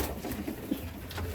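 Bombay breed pigeons cooing close by, soft low throaty coos in short pulses over a breathy, rustling background.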